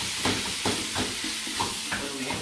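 Squash gets mashed and stirred in oil in a frying pan, a continuous loud sizzling hiss with rhythmic scraping strokes roughly every half second, close up and without speech.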